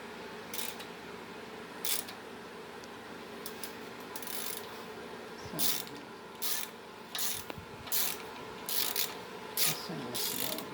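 Ratchet cranking a 6.0L drag-and-drive engine over by hand during the build: repeated bursts of close ratcheting clicks in an uneven rhythm, with short pauses between strokes over a steady shop hum.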